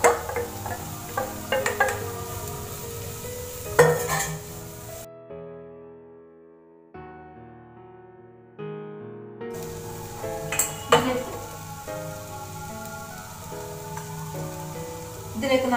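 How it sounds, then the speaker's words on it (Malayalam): Chopped cauliflower goes into a hot pan for a stir-fry, giving soft sizzling, scraping and utensil clatter against the pan, interrupted by a brief quiet stretch before the stirring and clinks resume. "ഇതിലേക്ക് നമ്മൾ ഇത് ചോപ്പ് ചെയ്ത് വെച്ച കോളിഫ്ലവർ ഇട്ട് കൊടുക്കാം."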